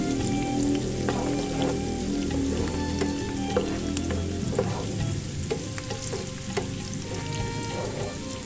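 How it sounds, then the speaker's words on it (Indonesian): Shallots frying in oil crackle and sizzle steadily in a pan for oxtail soup, with scattered pops and stirring scrapes over a continuous hiss. "Saya akan goreng bawang merah."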